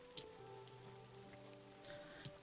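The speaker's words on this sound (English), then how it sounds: "Seems like a pretty solid rainy day" Steady rain falling in the video game Luma Island, a soft continuous patter under quiet game music with a few faint chimes, no voices.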